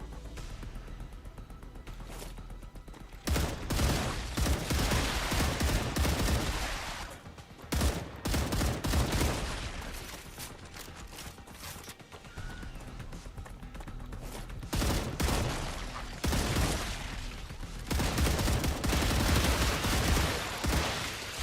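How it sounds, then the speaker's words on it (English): Bursts of rapid gunfire from the video game StarRupture, loud and close, coming in long volleys separated by short pauses, with some faint background sound between the bursts. "All right, last 20 shots here."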